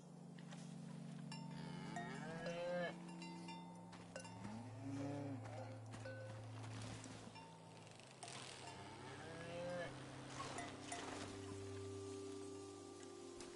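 Several cattle on a farm moo in turn, long drawn-out calls rising and falling, some close and some further off, over steady low farmyard background with no talking.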